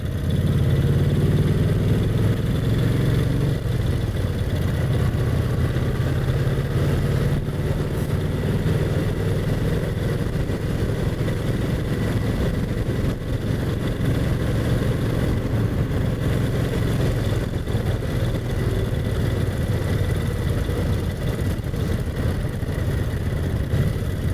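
A Brough Superior SS80 motorcycle, a heavy vintage machine, runs steadily along country lanes, its engine a loud continuous drone with wind rush that barely changes over the whole stretch.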